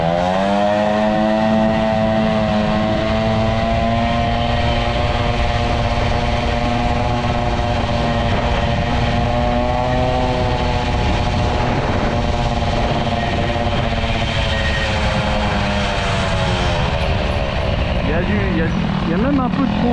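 Peugeot 103 moped with an Airsal 65 air-cooled kit held on a light, steady throttle, its two-stroke engine buzzing loud and close with strong harmonics for the whole stretch, the pitch wavering slightly near the end.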